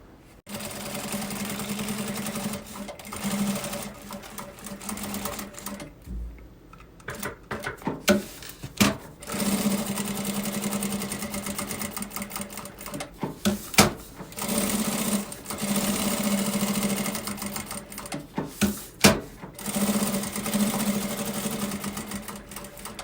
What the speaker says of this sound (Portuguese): vai passar uma costurinha de pesponto aqui e uma costurinha de segurança, prendendo o tecido principal e o forro